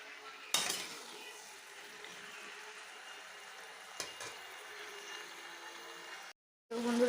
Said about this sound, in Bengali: দেখো ভালো করে মিক্সড করে নিচ্ছি।